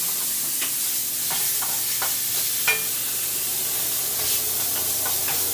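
Bacon sizzling in a pan, a steady broadband hiss broken by scattered small pops and crackles, near and moderately loud with no voices.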